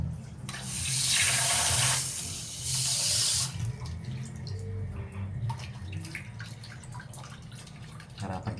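Water runs steadily from a tap as sweet potatoes are washed beneath it, a loud gush at first that eases to a softer trickle with small splashes, while a low voice murmurs in the background.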